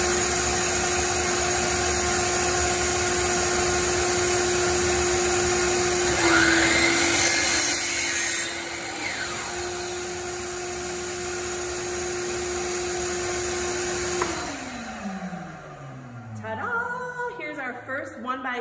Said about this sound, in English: So I'm gonna turn on our vacuum, which is a little bit noisy.